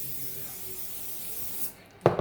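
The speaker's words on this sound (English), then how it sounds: "I'm going to go heavy on the spray" Cooking spray is applied heavily to a baking tray lined for Christmas fudge, heard as a steady, fairly quiet hiss lasting most of the moment, ending with a short louder clatter.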